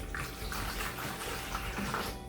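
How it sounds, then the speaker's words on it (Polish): Water pours steadily into a large bowl while making bread dough at home, a continuous soft splashing stream at moderate loudness with no voices. "do dużej miski e, wlewamy trzy szklanki wody"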